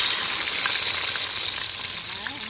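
Food frying in hot oil on a wood-fire stove, a dense steady close sizzle with faint crackles throughout and no voices.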